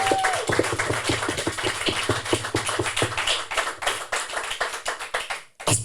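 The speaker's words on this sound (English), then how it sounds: "Round of applause, please." Audience applause at a live podcast show, many hands clapping in a dense burst of sharp, close claps that thins out toward the end.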